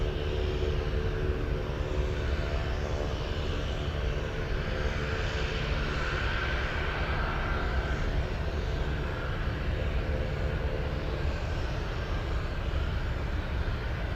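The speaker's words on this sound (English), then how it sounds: "This is the Grand Caravan we saw taxi a few minutes ago." A Cessna Grand Caravan turboprop at Anchorage airport produces a steady engine drone and whine that holds constant throughout, a broad continuous roar heard from nearby on the ground, with no talking.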